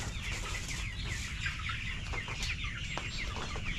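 Several chickens cluck and squawk nearby, a busy overlapping chorus over steady background noise.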